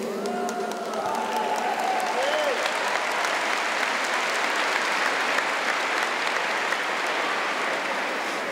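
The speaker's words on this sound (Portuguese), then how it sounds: "Vai aplaudindo" Sustained applause from a church audience at a religious preaching event, steady and dense throughout with a few voices and faint tones early on.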